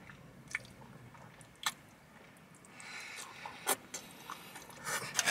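Pasta in creamy Alfredo sauce from Carrabba's is chewed close to the mic, with faint, quiet wet squishes and a few sharper bites spread over a few seconds and no talking.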